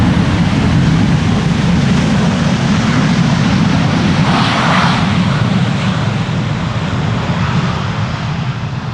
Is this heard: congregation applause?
no